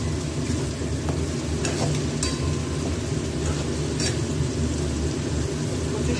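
Colocasia (taro) greens cooked with coconut fry in a pan over medium-low flame, giving a dense, continuous sizzle and crackle with a few sharp scraping stir clicks, close and steady throughout.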